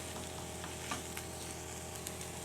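Mee goreng noodles sizzle steadily in a hot pan in the mamak style, with faint scraping stirs now and then, close and continuous, no voices.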